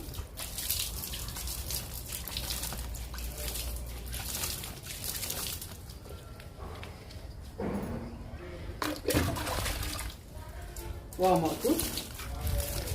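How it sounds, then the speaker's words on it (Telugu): Water misted onto indoor plants such as a bushy croton, as soft hissing spray bursts and faint drips. A person talks over them now and then. "రణపాలకు జల్లుదాము."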